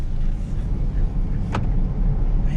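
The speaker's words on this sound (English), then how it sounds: "this Ford Ranger for a little bitty truck is loud" A small Ford Ranger pickup's engine drones steadily from inside the cab while driving, a loud continuous low rumble with road noise throughout and a brief higher whoosh midway.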